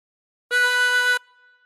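A chromatic harmonica drawn on hole 4 gives one sustained, steady, reedy note lasting under a second. It sounds close and clear with nothing else present, and it stops abruptly.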